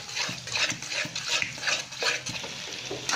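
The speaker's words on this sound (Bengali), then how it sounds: "আস্তে আস্তে করে ডিম দিতে হবে আর নেড়ে চেড়ে দিতে হবে," Beaten egg being stirred in a frying pan for an egg curry, with soft repeated scraping and stirring scrapes over a light steady fry, close and moderately quiet.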